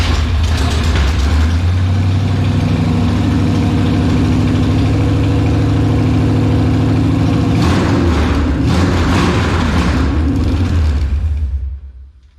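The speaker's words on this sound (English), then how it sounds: "the engine sounded good" A Chevrolet Impala engine idles loudly and steadily up close in a shop, with a rougher surge partway through before the sound cuts off at the end.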